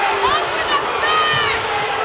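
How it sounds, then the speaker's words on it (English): Basketball arena crowd at a college game, Marquette at Cincinnati, roaring and shouting loudly and steadily for a foul call, a dense wall of voices with no letup. "Crowd looking for a foul."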